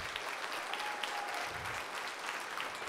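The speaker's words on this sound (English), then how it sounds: "Would you give them a round of applause, please?" Applause from a high school band concert audience honoring graduating seniors, a steady wash of many hands clapping at moderate distance, filling the whole stretch without a break.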